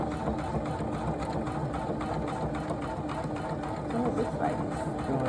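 Poolin embroidery machine stitching a kids' owl design, a continuous fast mechanical whirring hum that runs steadily throughout at close range.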